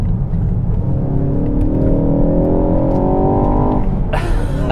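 A 2019 Ford Focus ST with Michelin Pilot Sport 4S tyres pulls hard in second gear, its engine note rising steadily and loud from inside the cabin, ending with a burst of broadband noise.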